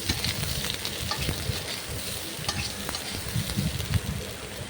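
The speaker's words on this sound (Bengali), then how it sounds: "আলু ফুলকপিগুলোকে সব তুলে দিলাম আমি। দিয়ে আমি নাড়তে থাকলাম।" Potato and cauliflower pieces frying with panch phoron for a vegetarian cauliflower dish crackle and sizzle up close while a utensil stirs them in frequent, uneven scrapes and knocks.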